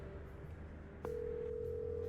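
A phone keypad tone sounds while dialing 999 in the video game Chicken Police: a brief key click followed by a sustained steady dial tone over a low background hum.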